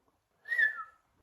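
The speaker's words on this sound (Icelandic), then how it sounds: "Það var rosa flott flaut." A single short whistled note, clear and close, slides slightly downward and fades within half a second in an otherwise quiet room.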